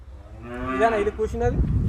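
A single cow moos nearby, a rising and falling bellow lasting about a second, with low rumbling noise underneath.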